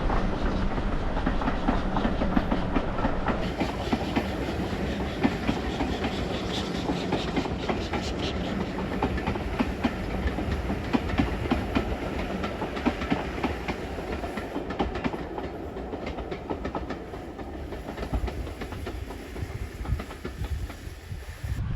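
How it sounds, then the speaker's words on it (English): A train rumbles past a countryside walking trail, a loud, steady roar with clattering wheel noise and hiss that fills the whole stretch without letting up. "What was that? Was that a train?"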